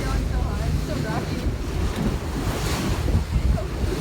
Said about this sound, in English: These waves.